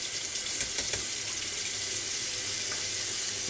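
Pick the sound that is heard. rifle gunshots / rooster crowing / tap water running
tap water running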